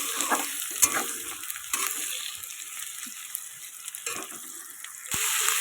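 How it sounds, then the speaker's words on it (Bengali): Chopped garlic and green chillies fry in oil with potatoes for an egg curry, giving a faint steady sizzle with intermittent soft scrapes and clinks of stirring and no talking. "এইগুলো হচ্ছে রসুন কুচি এই যে এই যে রসুন কুচি আর এই কাঁচা লঙ্কা দিয়ে দিয়েছি একবারে তেলে"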